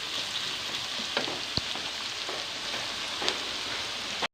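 Onion with garlic and ginger paste fries in a pan, giving a steady soft sizzle with occasional stirring clicks and pops, close and fairly quiet, with no talking.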